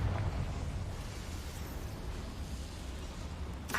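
The Confringo blast spell in Hogwarts Legacy explodes in a dense, rumbling roar that holds steady throughout, ending in a brief crackling burst.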